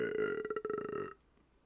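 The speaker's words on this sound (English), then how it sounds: "can you burp?" A single long, loud, gurgling burp close to the mic, rumbling for about a second before it cuts off into quiet.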